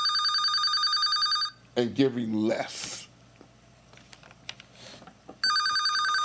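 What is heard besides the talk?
telephone bell ringing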